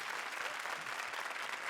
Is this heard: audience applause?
yes